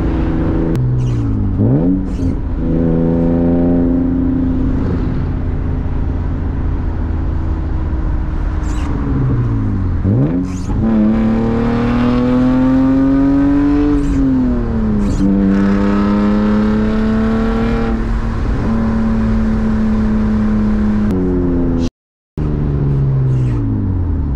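A BMW E36 328i engine while driving, revving up through the gears in repeated rising sweeps with shifts between, loud and continuous from inside the car, with a brief cut near the end.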